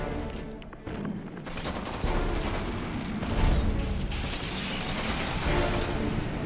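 Mecha Tengu walker firing at wall segments during a Red Alert 3 Empire match, a dense rattle of automatic gunfire and impact crashes layered over battle noise, steady and loud throughout.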